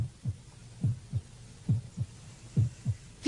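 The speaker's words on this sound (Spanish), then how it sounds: "en reposo un corazón normal late de 60 a 80 veces por minuto" A normal resting human heartbeat thumps in steady lub-dub pairs, low and close, with about four beats sounding alone without any talk.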